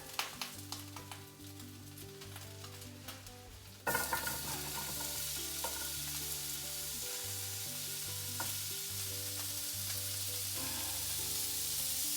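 Vegetables go into a hot pan for an Asian chicken stir-fry, and a quiet hiss jumps into a loud, steady sizzle that carries on close by, with a few faint clinks and no voices.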